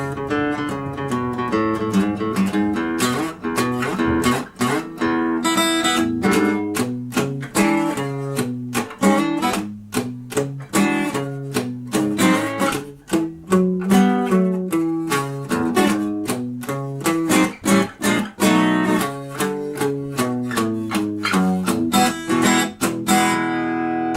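An acoustic guitar plays a boogie section at a slow tempo, heavy on the downbeat with a steady chugging bass line and bright strummed chords, close and continuous with no talking.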